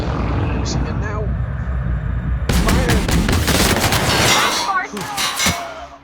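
Heavy, sustained gunfire in the video game Outer Worlds roars loud and near as a dense barrage with booming bursts, with voices heard beneath the din.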